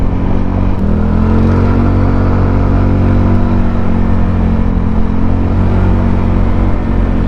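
A car cruising on a highway at rush hour in traffic, heard from inside: a loud, steady engine and road rumble with a low droning hum and faint shifting tones, continuous throughout and with no voices.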